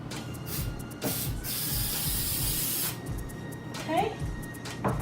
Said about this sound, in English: just go ahead and spray this on the first edge